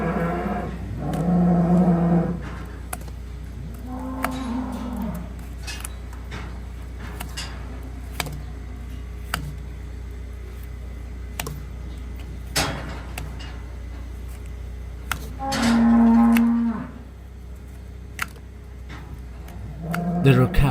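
Cattle in a barn moo in the background during a hoof trim. A few low, drawn-out moos stand out, one early, one around the middle and one near the end, over a steady hum and occasional knocks.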